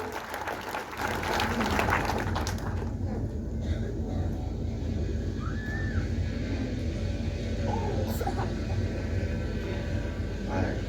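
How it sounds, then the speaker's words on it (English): Applause from an audience at a memorial tribute, a dense, steady clapping that swells after the first second and carries on evenly, with a few scattered calls or cries above it. "Makofi mazuri."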